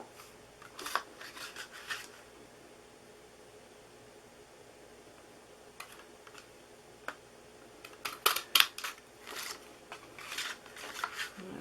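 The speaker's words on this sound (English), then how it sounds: "I need to cut a little bit off here" Scissors snipping through card stock while making a floral graduation money card, a few quiet crisp cuts near the start and a louder cluster of snips later, with soft handling sounds and no talk.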